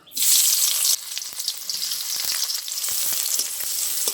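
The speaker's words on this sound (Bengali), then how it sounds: "এবার কেটে রাখা পেঁয়াজ দিয়ে দেবো আমি বেরেস্তা ভাজার জন্য" Sliced onions hit hot white cooking oil for beresta in an egg korma, bursting into a loud, steady, close sizzle that settles slightly after the first second and crackles on without a break.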